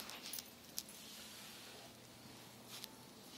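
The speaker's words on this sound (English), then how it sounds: "Alarm clock keys." Tray of metal alarm clock winding keys jangling and clinking as they are handled, faint and close, with a few brighter clinks through a soft rattle.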